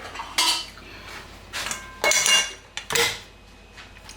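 A wide-based Tefal pan with a removable handle clatters and clinks in a kitchen, with several sharp metallic knocks and scrapes spaced irregularly, close and fairly loud, no talking.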